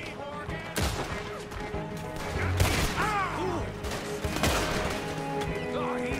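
Gunfire in the Red Dead Redemption II video game, with several sharp shots scattered through a busy mix of game sounds and effects, fairly quiet overall.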